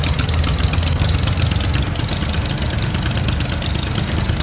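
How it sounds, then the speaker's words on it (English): Raft outboard engine in the survival game Stranded Deep running at a steady idle, a loud continuous rumbling drone with no talk. "Engine, here you start."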